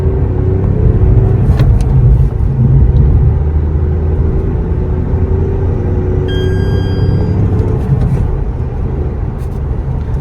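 A car engine rumbles steadily as the vehicle accelerates from 0 to 100, heard from inside with constant road and wind noise throughout.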